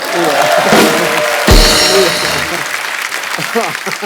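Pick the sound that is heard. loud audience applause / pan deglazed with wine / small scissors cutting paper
loud audience applause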